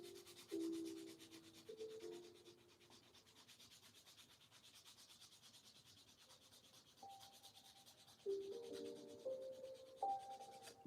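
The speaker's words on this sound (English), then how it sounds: "Quick and dirty, rough sanding." Rough sanding of a small handmade designer toy, rotated by hand to keep it round: a faint, steady dry rubbing scrape with a few brief louder strokes, heard alone.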